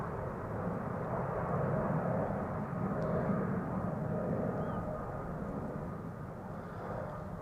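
A Boeing Dreamliner with a retro livery departs Amsterdam Schiphol Airport, its engines producing a steady, loud, broad jet roar that holds evenly without a break.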